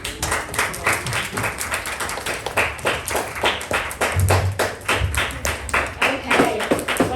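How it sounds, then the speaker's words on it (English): Audience applause at a morning school presentation at the Community School for Creative Education, steady clapping from a room of people for about seven seconds with a few voices underneath. "Give yourselves a round of applause."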